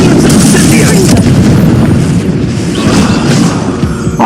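A fiery Incendio spell goes off in Hogwarts Legacy as a loud, dense burst of booming, crackling blasts that runs the whole time, with speech mixed in.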